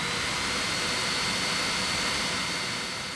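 The auxiliary cooling fan on a Neptune 4 Pro 3D printer runs as a loud, steady broadband whoosh of rushing air, close and continuous, with no talk.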